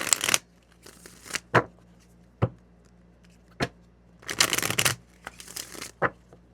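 Oracle cards from a Black Hollywood romance deck are shuffled and flipped in quick riffling bursts and sharp single snaps, some longer rustling flurries between isolated flicks, close up with no talking.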